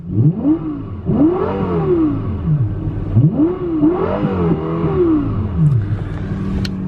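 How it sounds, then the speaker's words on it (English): McLaren 600LT supercar engine revved hard in repeated blips, about four rising-and-falling howls in quick succession, each climbing sharply then dropping back, loud and close with no one speaking. "And let's give her some revs."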